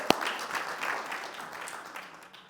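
Applause for children and youths at a Father's Day event, a sharp clap onset followed by a steady wash of clapping from a crowd that slowly fades over a couple of seconds.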